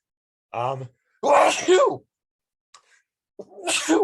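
A sharp sneeze bursts out after a short vocal sound, followed by quiet and then another brief voice, all close to the listener.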